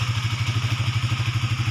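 A Suzuki GSX motorcycle engine runs normally after a stalling and weak-starter repair, a steady close idle with an even pulsing beat.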